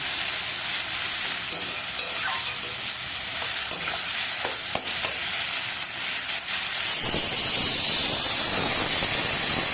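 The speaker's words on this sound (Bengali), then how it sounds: "এবার পেঁয়াজটাকে বেশ লাল লাল করে ভেজে নেব।" Onions with salt fry in a hot pan, a steady sizzle with occasional stirring scrapes, swelling to a louder, brighter hiss near the end.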